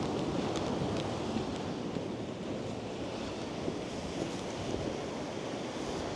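Sea waves on the Kerry coast of Ireland rush and wash continuously, loud and near, mixed with wind buffeting the microphone and no voices.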